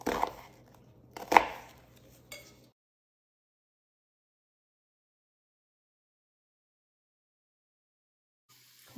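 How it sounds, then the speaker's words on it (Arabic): A knife cuts a peeled onion into wide pieces for a Jordanian onion dish from Irbid: a few sharp, close chops in the first couple of seconds, then long silence and a faint knock at the end. "هلا رح نبلش نفرم البصل"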